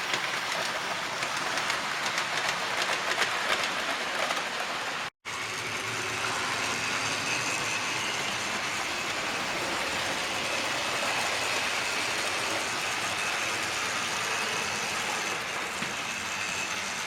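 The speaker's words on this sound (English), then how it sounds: "Right, let's get some more trains running then." Model railway trains run on a loft layout's track, giving a steady, dense rumble and clatter that continues throughout apart from one brief dropout.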